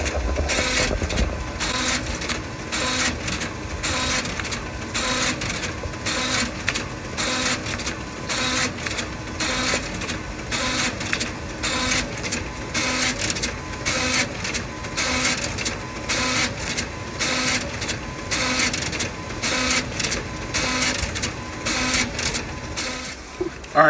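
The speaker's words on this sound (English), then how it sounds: "I'm gonna go ahead, I'm gonna let that print" A printer runs off carbon-copy invoice forms, giving a steady, close mechanical chatter with fast, evenly repeating strokes that continue unbroken for the whole stretch, with no voices.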